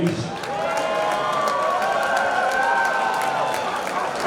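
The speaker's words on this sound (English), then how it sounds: "let's have a round of applause for both of the fighters in the stage." A crowd at a professional mixed martial arts event claps and cheers for both fighters after three rounds, a steady roar of applause filling the venue.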